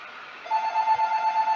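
A phone rings with a steady warbling electronic tone that starts about a third of the way in and carries on evenly, moderately loud and with no speech over it.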